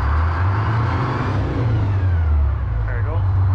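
A Sherman tank engine turning over and running as a steady, loud low rumble with continuous drone throughout, voices talking over it.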